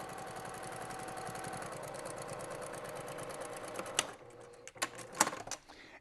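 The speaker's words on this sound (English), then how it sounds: "We're going to sew this down real simple." A sewing machine stitches down a homemade pot holder with a steady, rapid mechanical whirr for about four seconds, then stops, followed by a few faint clicks and handling sounds.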